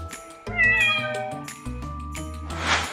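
Cats meow in a clear, drawn-out, tonal call close by, followed by shorter rising meows and a breathy huff at the end.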